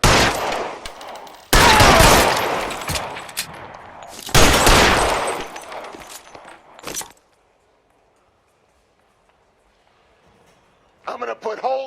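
Gunfire from a shootout in L.A. Noire, bursts of loud shots in clusters over the first seven seconds, then near-silence before a voice speaks at the end.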